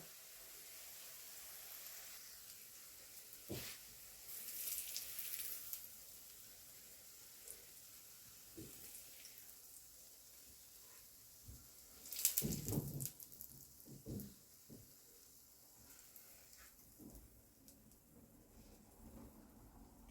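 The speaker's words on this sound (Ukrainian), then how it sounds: "Тепер обсмажую з іншої сторони" Potato zrazy fry in a pan with a quiet, steady sizzle. Louder spits and crackles burst out now and then.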